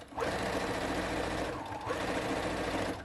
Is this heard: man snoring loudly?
no